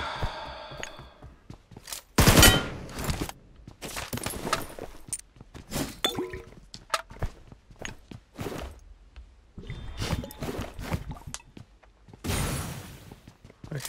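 Gunfire in PUBG Mobile during close fights in an apartment building, with several short bursts of shots spread across the span, some loud and near, mixed with scattered impacts and quieter gaps.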